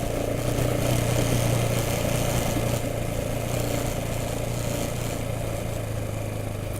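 A motorcycle rides a dirt road with sand and washboard sections, its engine giving a steady, loud, droning hum mixed with constant wind and road rumble throughout.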